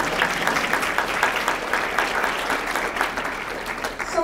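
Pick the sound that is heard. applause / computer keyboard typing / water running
applause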